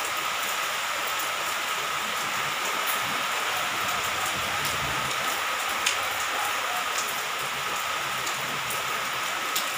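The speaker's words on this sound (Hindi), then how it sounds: "ये देखिए कितनी तेज बारिश हो रही है आज यहाँ पर।" Heavy rain pours steadily and loudly, a dense continuous hiss with occasional sharper drops, no voices over it.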